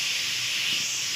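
Steam hisses steadily out of a pressure cooker being opened while gosht is cooked, a continuous close, moderately loud jet of hiss lasting about a second, with no talk over it.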